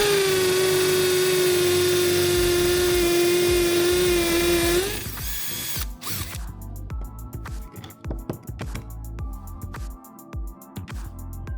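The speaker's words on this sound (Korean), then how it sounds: "그래서 드릴 드라이버로는 뚫기 힘든 단단한 곳을 뚫기에 만든 드라이버입니다." A hammer drill whines at a high steady pitch for several seconds, then stops, followed by close clattering and handling knocks of the tool, loud and near.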